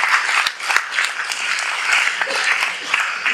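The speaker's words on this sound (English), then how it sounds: "Can you please have a round of applause for all the panelists?" An audience at a mental health advocacy panel applauds the panelists with loud, close, continuous clapping, a few sharp individual claps popping out, and faint voices mixed in.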